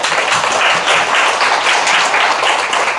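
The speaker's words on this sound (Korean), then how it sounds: "하나님께 박수." A church congregation bursts into steady, dense applause that fills the room for several seconds without letup, loud and close with no speech over it.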